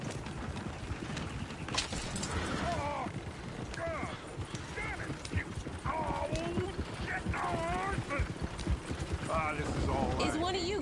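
Horse-drawn coach in Red Dead Redemption II, with steady clip-clop of hooves, rattling wheels and creaking mechanisms, plus occasional whinnies, close and continuous alongside game voices.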